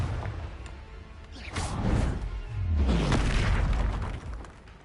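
Confringo explosive spell in the Hogwarts Legacy game, a whooshing cast followed by deep booming blasts that swell and fade, loud and close.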